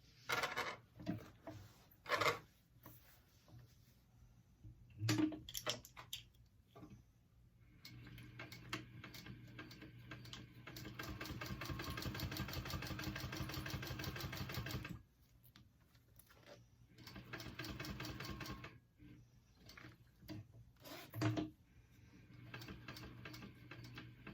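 A sewing machine running a straight seam along the bottom edge of a fabric bag, a quiet rapid mechanical whir lasting several seconds amid scattered handling clicks and taps, close and faint.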